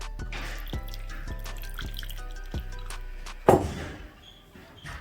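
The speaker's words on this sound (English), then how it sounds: "Add your ice cold water." Ice cold water drips and trickles in small splashes against a low background hum, with a brief louder pour near the end before fading.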